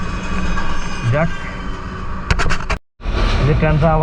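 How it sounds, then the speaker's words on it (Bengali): A train rumbles across the Jamuna Bridge over the Jamuna River, moving slowly, heard close and loud in a continuous drone, with a brief dropout near the end and a person talking over it. "যে ট্রেনটা আবারও যাচ্ছে।"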